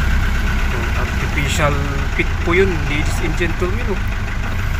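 Motorcycle engine idling steadily at close range, a constant low mechanical hum running beneath someone talking throughout.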